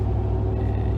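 Ford F-150 pickup engine with aftermarket exhaust rumbles steadily and deeply under acceleration, a close, continuous low drone for a brief moment.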